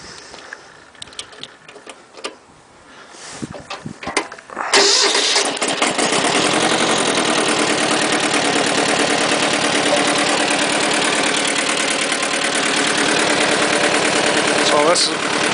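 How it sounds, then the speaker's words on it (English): A Kubota B2650 tractor being retrofitted gives a few clicks and brief cranking sounds, then its engine catches and settles into a loud, steady, close idle that runs without a break to the end. "let's start it up here and we'll run it a little bit"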